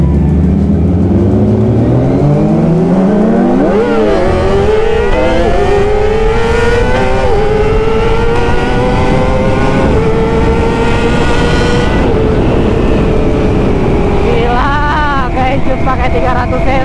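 A Kawasaki ZX25 motorcycle with a bored-up 300 cc engine revs hard and close, its pitch climbing, dipping and surging again through repeated throttle blips. It stays loud and raspy throughout.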